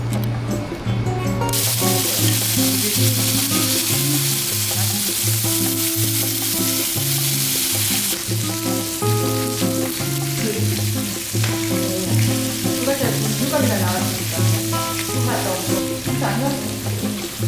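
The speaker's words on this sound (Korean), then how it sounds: "소고기랑 돼지고기, 삼겹살 지금 여기 안에서 구워 먹을 거예요." Beef and pork belly grilling indoors, a loud continuous sizzle and frying hiss with crackles, close to the pan, under music playing in the background.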